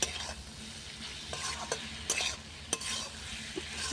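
Pointed gourd is stir-fried with spices in a pan over a clay stove: a constant close sizzle broken by quick spatula scrapes and metallic clicks.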